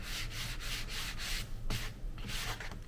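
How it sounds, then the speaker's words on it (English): Leather is worked with a super fine sanding block in light, rhythmic back-and-forth strokes, close and scratchy, with a brief pause and a knock midway before the rubbing resumes. "get your super fine sanding block. Don't lean in on it."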